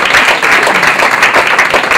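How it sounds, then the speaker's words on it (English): Loud, close applause from a social media club audience at a venue event, a dense burst of many hands clapping that fills the whole short stretch. "let's give them a big round of applause for being our home for the next year."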